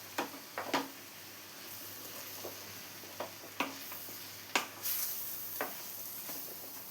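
A mushroom and green pea masala sizzles softly in a pan while a spoon scrapes and clicks against the metal every second or so. The stirring is close and fairly quiet over a steady hiss, with no voices.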